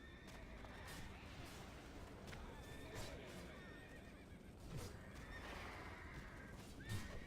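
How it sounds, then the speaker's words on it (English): A horse neighs in the video game World of Warcraft, with whinnies rising above continuous hoof clip-clop and rustling game ambience; faint talk mixes in. "Then he got on a horse."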